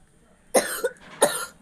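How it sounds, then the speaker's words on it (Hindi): Two sharp coughs from a person at home, close and loud, the second following about half a second after the first. "खांसी आ रही है।"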